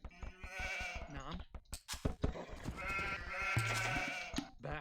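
Sheep bleat several times in the Age of Empires strategy game, short repeated calls over a busy, fairly loud game soundscape.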